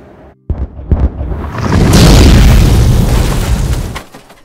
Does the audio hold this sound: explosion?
yes